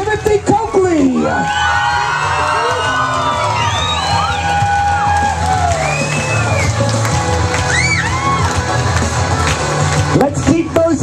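At a wedding reception at Wachusett Village Inn, guests cheer, whoop and shout for the newlyweds, a loud, continuous crowd roar with high excited yells throughout.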